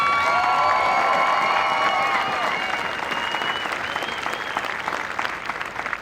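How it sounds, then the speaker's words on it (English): Audience at an Air Force basic military training graduation ceremony breaks into sustained clapping that fades gradually, with a voice and faint tonal sounds over the first couple of seconds. "Let's give them a round of applause."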